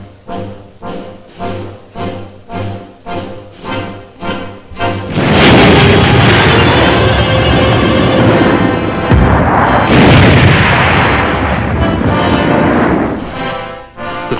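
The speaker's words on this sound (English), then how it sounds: "All of us wait for the simulated atomic explosion, which will signal the beginning of the day's advance." A simulated atomic blast set off during a 1950s Army ROTC field exercise erupts as a huge, sustained roar that swells and rumbles for many seconds, following a run of rhythmic thuds.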